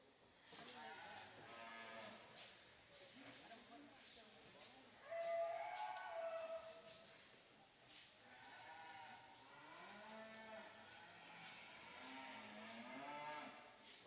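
Cattle low repeatedly at a junior breeding heifer show ring. The drawn-out moos overlap against a hushed arena background, with one louder call partway through.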